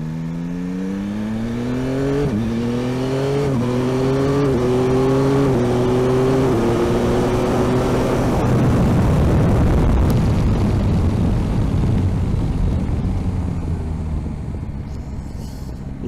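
A Yamaha Tracer 9 GT motorcycle's CP3 engine pulls hard through several gears, its rising tone dropping at each quick upshift, then building into a loud, rough roar that fades slightly at the end, with no voices.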